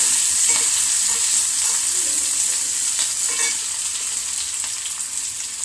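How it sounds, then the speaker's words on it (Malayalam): Garlic frying in oil in a pan, a steady, bright, loud sizzle that holds throughout with faint stirring scrapes underneath and no talking. "വെളുത്തുള്ളി ഇട്ട് ഇതൊന്നും അധികം മൂക്കട്ടെ"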